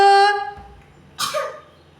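A single short cough after a moment of voiced sound, close by, followed by quiet.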